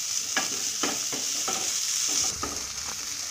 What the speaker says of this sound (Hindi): लेमन जूस डालकर मैंने फ्राई कर ली है इसे 2 मिनट